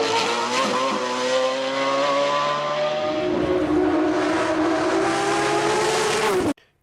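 A Mercedes-AMG race car climbs the Falperra hillclimb, its engine screaming loud and close with rising pitch through quick gear changes, sustained high revs, then the sound cuts off abruptly.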